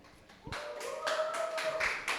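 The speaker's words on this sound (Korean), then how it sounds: "이제 큰 함성과 박수 부탁드립니다." An audience claps at a church Bible-study talk, a loose scatter of hands building into steady applause, with a sustained tone underneath and a few faint voices.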